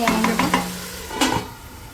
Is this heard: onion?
yes